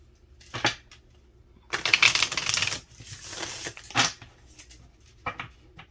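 Tarot card deck being shuffled by hand in a few separate bursts of riffling and crisp card flutter, close and quiet, with short pauses between.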